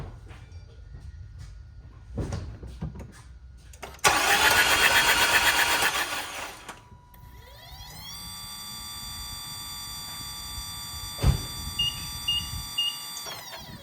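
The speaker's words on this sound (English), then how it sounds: "I'm gonna start the car." A 2013 Nissan Altima SV engine is cranked and fires up with a loud, brief starter whir, then settles into a steady idle with rising whine tones and a few clicks and thumps nearby.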